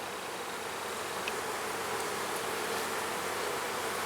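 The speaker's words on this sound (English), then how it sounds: "There's a ton of bees on this frame." A mass of honey bees crawling on a hive frame gives off a steady, close, unbroken buzzing drone that holds even throughout, with no voices present.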